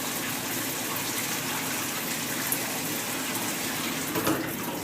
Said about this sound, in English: You want to drain some of this water out to get all the small pieces.